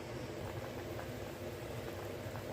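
A village-style ripe mango curry boils steadily in a clay pot, giving a continuous low bubbling and simmering hiss that stays even and close throughout.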